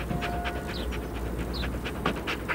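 A dog named Inouk pants close by in quick, rhythmic breaths, with a few faint whimpers over a low steady background hum.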